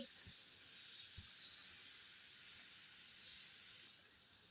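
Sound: spiny gourd pieces frying in a pan on high flame

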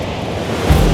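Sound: roaring waterfall in Canada

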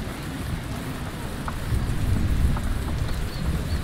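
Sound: thunder and rain effects in video game Patron

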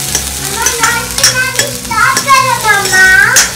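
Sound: onions frying and being stirred in a pan

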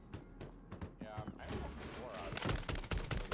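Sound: gunfire in the video game Warzone

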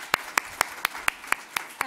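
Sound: audience applause for Flash Talk presenters

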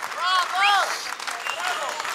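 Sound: audience applause

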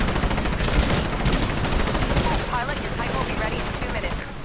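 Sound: gunfire from a gun in the video game Titanfall

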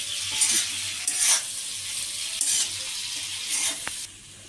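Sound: stirring tomatoes, onions and chillies frying in a pan

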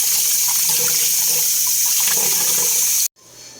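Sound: washing beef innards under running tap water

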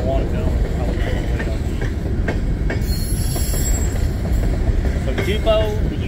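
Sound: Union Pacific empty coal train passing

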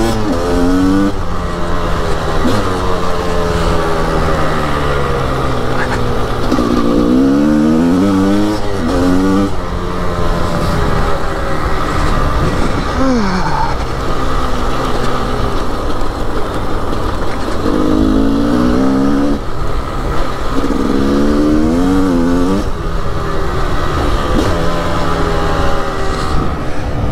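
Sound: Gas Gas 300 two-stroke motorcycle riding

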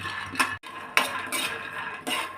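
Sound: roasting peanuts in a pan

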